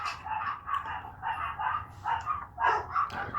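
A happy dog with a wagging tail gives a continuous run of close, fairly loud yipping barks and whiny vocal bursts over about three seconds.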